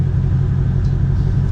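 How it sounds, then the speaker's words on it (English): Shelby GT500 engine held against its launch control rev limiter, a loud, steady low rumbling idle-like drone with slight pulsing and no rise in pitch throughout. "you can hear the rev limiter is cutting it off at 1400 RPMs"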